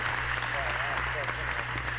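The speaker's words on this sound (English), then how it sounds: "let's give it a round of applause" Steady applause from an audience, dense continuous clapping with a voice murmuring underneath and a low hum.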